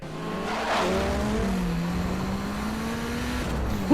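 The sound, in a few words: truck skidding with tire squeal in a movie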